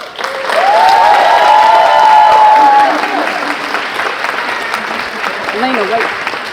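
Graduation audience at a school ceremony breaks into steady, loud applause with some cheering, while a voice speaks over the crowd near the end.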